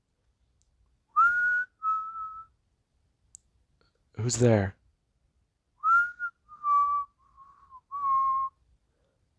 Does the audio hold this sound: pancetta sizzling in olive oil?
no